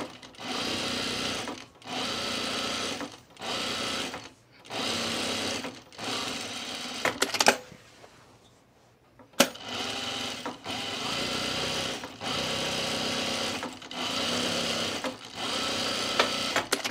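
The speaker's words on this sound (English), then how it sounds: "We're just top stitching this pocket here." A sewing machine top stitches a pocket on a fabric divided basket, running in steady bursts of rapid stitching with short gaps and a longer pause midway.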